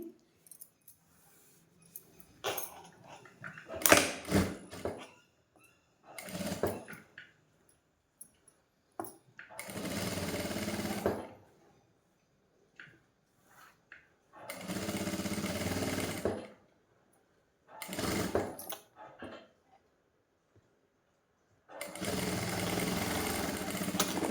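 Sewing machine stitching a blouse lining, running in several separate bursts of rapid mechanical chatter with quiet pauses between, close and clear.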